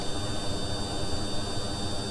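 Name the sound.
Klimov jet engine on plane, from video game Kerbal Space Program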